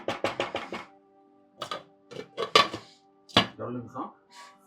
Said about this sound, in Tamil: ஸோ இதை வந்து க்ளோஸ் பண்ணி அப்படியே வைக்க போகிறேன்.